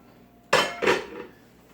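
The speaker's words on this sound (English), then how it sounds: "I got the pot for my saucepan, frying pan, whatever you want to call it." A metal pot or saucepan set down on a kitchen stove, giving two close, sharp clanks a moment apart, fairly loud and near, with no talking over them.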